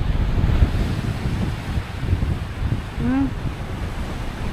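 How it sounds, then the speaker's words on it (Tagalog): Steady rushing wind buffets the microphone while high-tide waves wash against the shore in Queenstown, with a brief tonal whistle-like sound rising near the end. "Yan o, mahangin ngayon. High tide."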